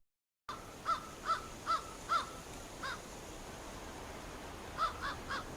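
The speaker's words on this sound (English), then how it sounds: "We got a single crow cawing here." A lone crow caws four times in an even rhythm, pauses, then calls once or twice more against a quiet outdoor background.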